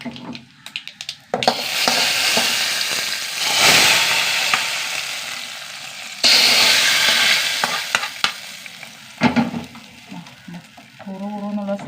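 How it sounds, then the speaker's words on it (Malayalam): Mustard seeds splutter and crackle in hot oil in a pan while cooking sambar, making a loud, dense sizzle close by, broken by a few brief gaps and the clink of stirring. "കടുകിട്ട് കൊടുക്കുക പൊട്ടട്ടെ"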